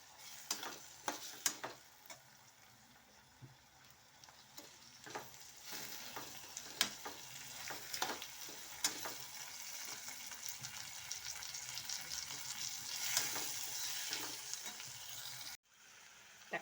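Finely chopped tomatoes sautéing in a pan for an egg gravy, a continuous soft sizzle with irregular spoon clicks and scrapes throughout, close but faint, with no talking.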